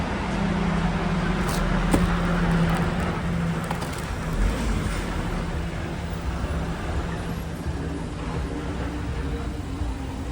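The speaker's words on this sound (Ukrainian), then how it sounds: "зараз фура буде їхати, буде погано чутно" A semi-trailer truck rumbles past on a nearby road, a broad, steady roar of engine and tyre noise that swells and then holds.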